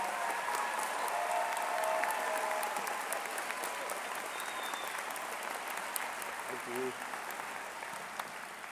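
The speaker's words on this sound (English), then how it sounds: "Please give them a round of applause" A graduation ceremony audience applauding faculty, with sustained, even clapping from a large crowd filling the hall at moderate distance, tapering slightly near the end.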